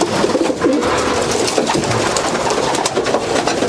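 Racing pigeons coo steadily inside a loft, a dense, continuous chorus of overlapping soft throaty calls with rustling in the background, fairly loud and close throughout.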